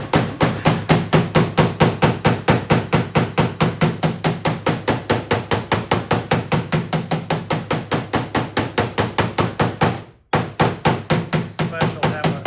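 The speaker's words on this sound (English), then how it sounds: "It's the first time somebody putting a hammer on my car." Paintless dent repair hammer tapping on the hood of a Toyota RAV4: rapid, even, close metallic taps at a steady rhythm, with one brief pause near the end and no talk.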